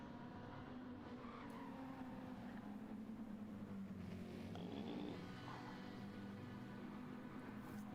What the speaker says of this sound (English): Hear that tyre squeal.